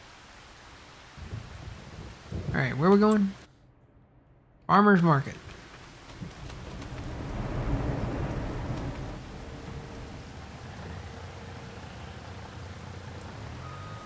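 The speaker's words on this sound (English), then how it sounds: "And it's raining." Steady rain with a low rumble of thunder swelling in the background in Farming Simulator 25, while voices speak briefly over it near the start.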